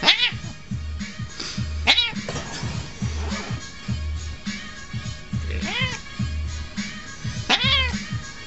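A house cat meows repeatedly indoors, several distinct rising and falling cries scattered over a steady low hum, with soft handling sounds between them.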